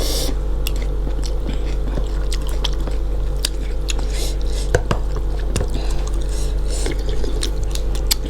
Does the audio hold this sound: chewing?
yes